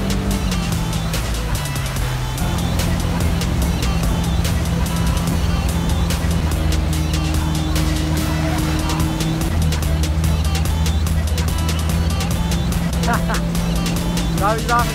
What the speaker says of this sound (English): This boat is making the nice waves.